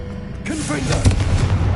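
A booming blast from the Confringo fire spell in Hogwarts Legacy, loud and close with rumbling low-end impacts, mixed with a voice.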